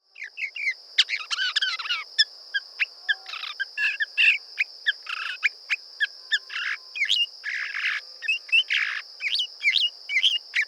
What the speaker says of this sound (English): That's the Northern Mockingbird.